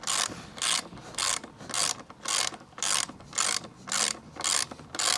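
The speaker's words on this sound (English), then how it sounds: "that's the axle nut and a giant washer coming off." A ratchet loosens the axle nut on a BSA Goldstar 650 motorcycle, giving about ten loud, evenly spaced bursts of rapid pawl clicking with short pauses between strokes.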